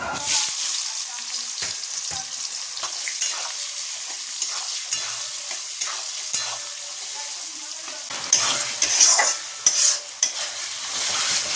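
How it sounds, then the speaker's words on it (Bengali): Whole garam masala, ginger, garlic, onion, tomato and coriander leaves for chicken fry and sizzle in a pan, with a steady hiss and repeated scraping stirs of a spoon, growing busier near the end. "চিকেনের জন্য মশলাটা ভালো করে কষিয়ে নিচ্ছি"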